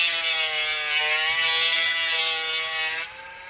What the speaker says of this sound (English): at the same time you sand out any other burr ends